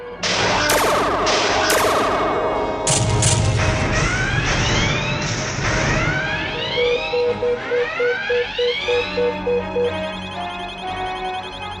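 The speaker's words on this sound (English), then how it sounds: "the Azrael is firing photon torpedoes" Sci-fi photon torpedoes fire from the starship Azrael in an animated space battle: a run of rising, sweeping electronic whooshes and zaps with a dense synthetic wash, then a rapid pulsing electronic beep sequence, loud and without voices.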